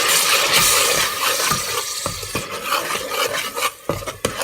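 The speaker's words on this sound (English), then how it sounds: "dropping in the green paste. Again stirring well." A spoon stirs green paste into black-eyed peas frying in a pan, giving a soft sizzle and shuffling scrape punctuated by several sharp metallic knocks against the pan, the clearest near the middle and end.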